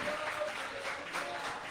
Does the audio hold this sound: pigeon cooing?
no